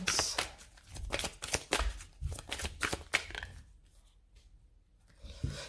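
Tarot cards being shuffled up close, a run of crisp riffling bursts and soft slaps for several seconds before the handling quiets, with a brief rustle at the end.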